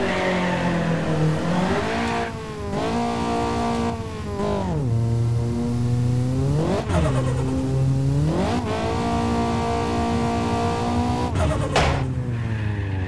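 A car in the Apex Point racing game spins its wheels on a quarter-mile drag launch, engine revving loud and high while the tires squeal, then shifting up through several gears with falling and climbing pitch, no talking.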